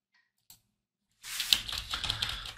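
A computer keyboard being typed on, a quick burst of close, clicking keystrokes after a moment of near silence.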